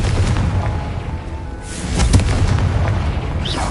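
Confringo fire spell blasting in the video game Hogwarts Legacy, a deep booming explosion with rumbling low end and a second burst partway through, loud and close over ambient game sound.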